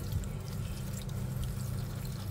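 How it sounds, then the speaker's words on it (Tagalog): Tap water runs steadily onto taro leaves in a large strainer, a close, continuous rushing splash with no pauses and no talk. "I-rinse natin ng tubig."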